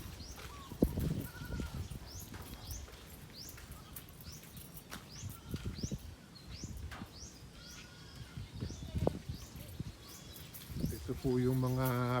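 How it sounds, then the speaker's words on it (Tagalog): Goats bleating inside a pig pen, several scattered calls at a moderate distance among birds chirping, with people talking intermittently and a louder tonal sound near the end. "Maraming napupulot ang mga kambing. Kaya marami pong kambing sa loob."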